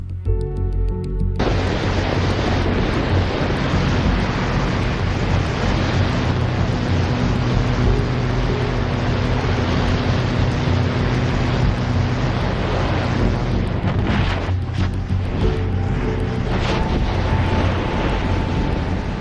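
Roaring airflow and engine noise from a small skydiving airplane in flight dominate as a loud, continuous broadband rush. Brief dips and changes in the wind roar occur near the end, with no speech.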